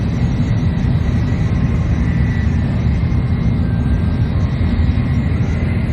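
Steady low rumble and broadband roar inside a moving train travelling between Osaka and Tokyo in Japan, a continuous close hum with no voices.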